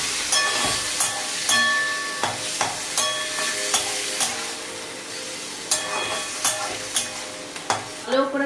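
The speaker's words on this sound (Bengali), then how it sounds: "এবার আমি কিমাটাকে তেলে দিয়ে দেব। দিয়ে ভালো করে ভেজে নেব।" Chicken mince frying in hot oil, with a constant sizzle and repeated scraping stirs and clinks of a utensil against the pan.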